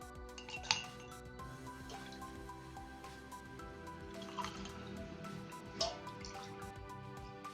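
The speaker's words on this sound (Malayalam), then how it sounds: "ഇനി നമുക്ക് വെള്ളം ഒഴിക്കാം." Water pours and drips steadily into a glass of lemon squash with ice, soft clinks against glass and ice, a quiet, continuous trickle with a few sharper taps.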